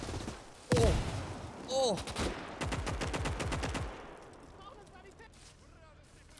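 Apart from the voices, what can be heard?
artillery fire in a video game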